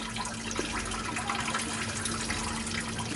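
Residual coolant from a removed lower radiator hose on a 1999 GMC Suburban trickling into a drain pan, a steady faint splash and run of liquid over a low background hum.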